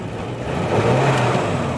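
A 1936 Hudson Terraplane engine revs up and settles during a double-clutch shift, close and loud, with a brief rise in pitch as it shifts.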